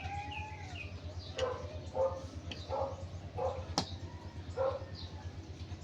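Neighbours' dogs bark in a series of about five short, spaced yelps at moderate distance over a low background hum, with a faint whimper-like tone near the start.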